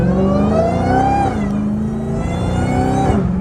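Dodge Challenger Hellcat Redeye V8 fitted with a new intake, revving steadily and loudly up close, its deep rumble swelling and easing slightly before climbing again, with no talk over it.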